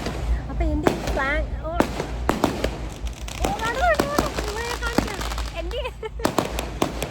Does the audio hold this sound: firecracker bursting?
yes